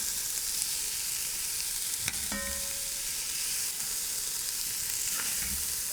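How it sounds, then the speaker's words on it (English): Vegetables sauteing in a very hot pan for a seafood jambalaya: a steady, loud sizzle and crackle fills the whole stretch, with a couple of brief utensil clinks and stirring scrapes partway through. "all we're going to do is just saute these a little bit to get them softened up"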